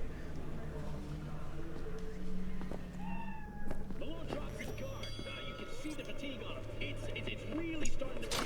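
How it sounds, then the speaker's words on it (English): Siamese cat meowing in the video game Cyberpunk 2077, a few short faint rising meows over game ambience and background noise, with a voice talking through it. "What kind of cat is that? It looks like a Siamese cat, maybe?"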